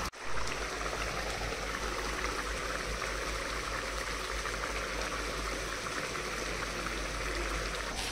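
Water is poured into a pan of cashew paneer masala while cooking, a steady continuous pouring and sizzling wash that runs unbroken at close range.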